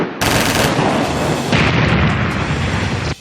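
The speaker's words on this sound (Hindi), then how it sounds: "फिर दोबारा से इस ग्रुप ने फायर शुरू किया।" Loud sustained gunfire during a military firefight: dense, continuous cracking bursts that fill the whole moment, with a sharp cutoff at the end.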